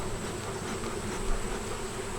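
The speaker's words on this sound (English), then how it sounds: "there's a lot of bees in there" Honey bees fill a hive box during a frame inspection with a steady, close, dense buzz that holds at an even level throughout, with no voices.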